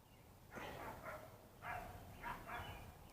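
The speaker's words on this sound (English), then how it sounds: "don't mind the dog over there." A dog barks several times nearby in short bursts, with a few sharp woofs spaced across a couple of seconds over faint background noise, while someone is about to head out for a walk.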